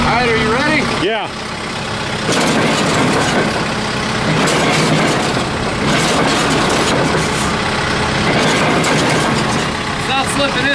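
An old tractor engine running a hay baler that may not have moved in 20 years, heard as a loud, steady, close diesel rumble that rises as the throttle is revved, with people talking over it.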